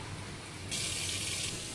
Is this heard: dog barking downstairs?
no